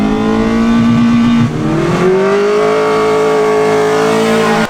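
Mitsubishi Lancer with an Alibaba pod air filter revving loud and close, a sustained engine tone that drops briefly, then climbs and holds a higher pitch before cutting off.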